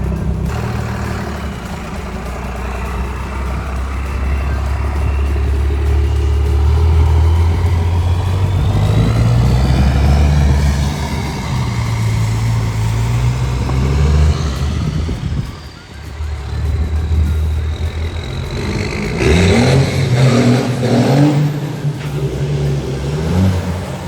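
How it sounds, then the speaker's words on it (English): A diesel truck engine revs hard to redline in second gear and climbs in pitch, roaring loudly for several seconds, cuts briefly, then surges again with rising whine. "I literally had to rev it up in second all the way to redline and dump the clutch"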